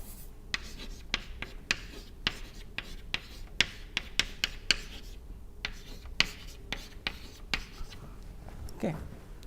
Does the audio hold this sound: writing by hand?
yes